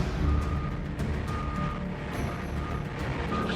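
A truck backs up at a dock during a fishing boat's catch offload, its reversing alarm beeping steadily at moderate distance over continuous engine rumble and general dockside noise.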